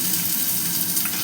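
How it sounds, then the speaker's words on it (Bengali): Chopped tomato sizzles with already-fried chopped onions in a pan for a muri ghonto dish: a steady, close, even crackle that holds without a break for the whole moment, with no voices. "এবার আমি এতে এই যে টমেটো কুচি দিয়ে দিলাম।"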